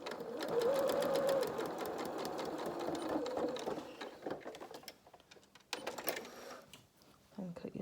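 A domestic sewing machine stitches a second row of topstitching along a dungarees seam, its steady mechanical whirr running in bursts with short pauses, while someone talks over it.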